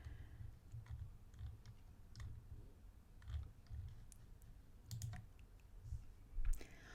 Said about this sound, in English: if I click About Us, it just goes straight down to that page.